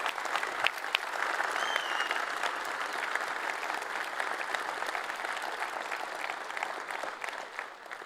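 A large crowd at the EVE Online Fanfest 2023 convention applauds in a dense, steady wash of clapping that holds its level throughout before easing slightly at the end.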